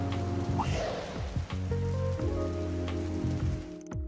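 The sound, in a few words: heavy rain in the video game Trails through Daybreak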